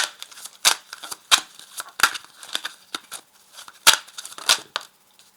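Tarot cards are shuffled and drawn by hand, giving close, crisp riffling and snapping bursts at an uneven rhythm, separated by brief pauses.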